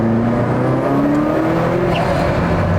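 Ferrari F40 with twin turbos, its dump valve venting over a loud, steady engine note from inside the car, with no voices present.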